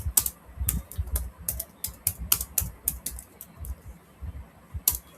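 Rapid keystrokes clatter on a computer keyboard in uneven bursts, close and crisp, with brief pauses between words and no voices.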